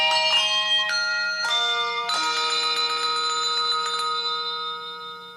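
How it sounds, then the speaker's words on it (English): Small tuned bells chime out We Wish You a Merry Christmas for a Hershey's Kisses commercial, a few bright struck notes ringing and overlapping clearly, alone with no voices. "it's we wish you a Merry Christmas, but it's little bells"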